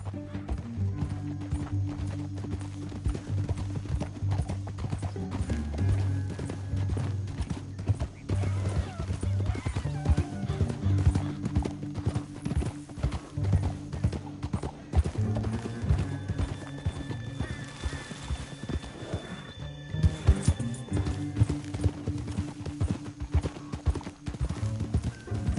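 Steady clip-clop of galloping horse hooves in Red Dead Redemption 2, rhythmic and continuous, with the game soundtrack underneath and a brief whinny.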